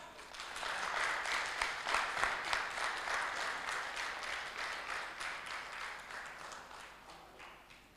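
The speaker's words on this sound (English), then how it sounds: "So big clap." Audience at an oncology summit applauding the third prize winners, a sustained round of clapping that swells in the first seconds and gradually fades toward the end, fairly distant in a large hall.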